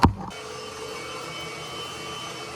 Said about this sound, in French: c'est l'aspirateur qu'on a eu à Noël